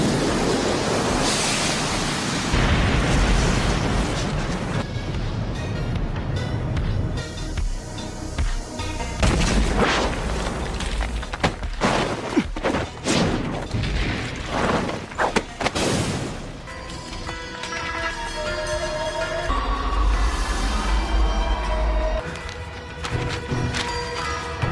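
Anime fight scene from Naruto with a fire style jutsu explosion: a dense, roaring blast of noise with repeated heavy thumps and crashing bursts that swell and sustain loudly throughout, mixed with dramatic background score.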